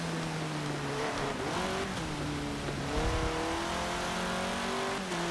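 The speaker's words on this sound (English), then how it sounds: "combined with my super slidey four-wheel buggy, do not make for ideal conditions to race." Engine of a four-wheel off-road buggy racing on narrow roads in Forza Motorsport 7. Loud and continuous, the engine drone rises and falls with gear shifts and revs, a faint tire squeal appears, and there is no talking.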